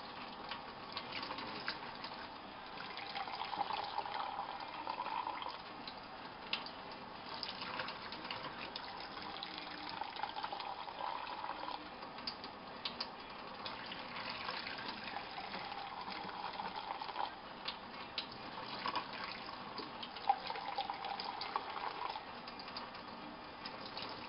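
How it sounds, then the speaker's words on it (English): Water poured from a cup over a newborn during a bath, a steady trickling and splashing that goes on with a few brief gushes over a faint background. "take your cup again, fill it up with some water, and just pour"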